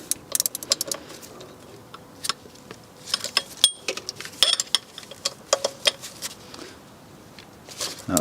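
Bolts on a BMW intake manifold being nipped down by hand with a tool, a scattered series of light metallic clicks and ticks, close and fairly quiet, no talking.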